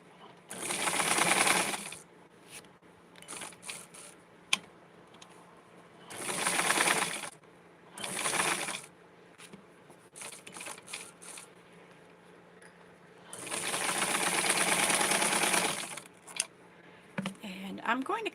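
A home sewing machine stitching gingham fabric for a Barbie doll outfit, running in three bursts of rapid mechanical whirring separated by pauses with small handling clicks and soft talk.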